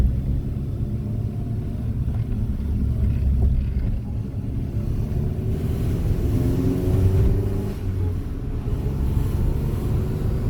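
A Honda D16Y8 engine fitted with a new DNA Motoring header runs with a steady low rumble that swells into a rising rev, close and continuous under wind buffeting.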